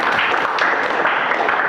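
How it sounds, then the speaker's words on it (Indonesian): A classroom of students and their teacher clap together at the end of a mathematics lesson, a brief, dense burst of many hands at an even level throughout. "sekali lagi tepuk tangan untuk kalian semua dan untuk pembelajaran"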